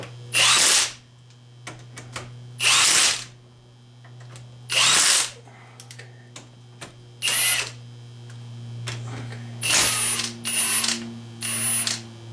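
A power impact wrench tightens axle bolts on a GM 14-bolt axle in short loud rattling bursts of about a second each, roughly eight of them separated by quiet gaps, with faint clicks between.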